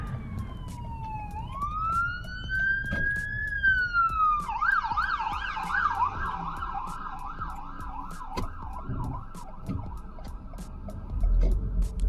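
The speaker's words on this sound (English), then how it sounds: "Ambulance, pull over." An ambulance siren wails, sweeping up and down, then switches to a fast warbling yelp, loud and continuous over low road rumble in Burnaby, B.C.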